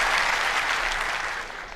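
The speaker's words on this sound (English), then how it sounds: "Thunderous applause." Thunderous applause from a large audience at a political address, a dense, steady roar of clapping that stays loud throughout and tapers only slightly at the end.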